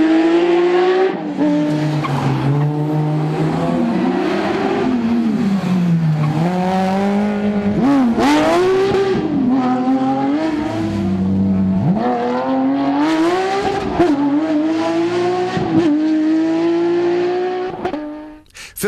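Rally cars of the ADAC Opel Rally Cup on a test run at the ADMV Rallye Erzgebirge, engines loud and steady with rising and falling revs, a continuous close roar with brief tire squeals and no voices.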